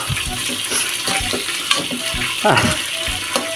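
Onions sizzle and crackle in a hot pan with garlic, a steady frying hiss with brief clinks and stirring scrapes, close and fairly loud, no talking.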